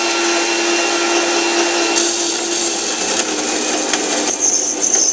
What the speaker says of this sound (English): let's go ahead and start this grinding